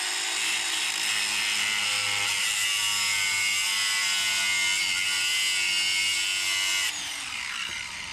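A grinder bears down on a tapered edge of a small manure spreader part, giving a loud, steady, high-pitched whine with strong harmonics that holds for about seven seconds before it slows and fades.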